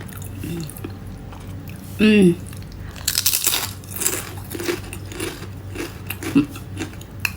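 Crunchy papad fried without oil is bitten and chewed up close, giving a few crisp crunches and soft chewing sounds, with brief talk in between.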